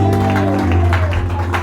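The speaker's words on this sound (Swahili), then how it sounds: "Tumchapie Bwana makofi." Church congregation claps for the Lord, a steady burst of many hands clapping together over a loud sustained low musical drone, with scattered voices in the room.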